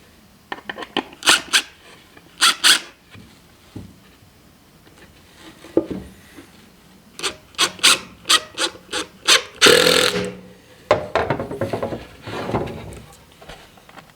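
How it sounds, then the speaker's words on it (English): A screw is driven into wooden boards while building a cold-weather rabbit nest box: a series of sharp knocks and scraping rasps, then a dense grinding burst as the screw bites, all close and without talk. "So let's just get one of these screws in here,"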